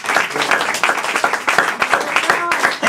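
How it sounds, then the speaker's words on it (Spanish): A church congregation claps together during a Resurrection service, dense steady applause with a few voices mixed in, lasting the whole moment. "Denle un aplauso al Señor."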